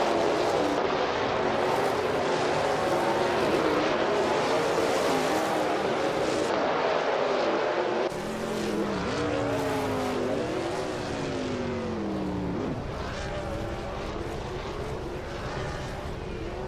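Racing cars, including a 2011 Dodge Ram, roar continuously in a racing video game, engines droning loud and close with shifting pitch and rising revs during gear changes midway.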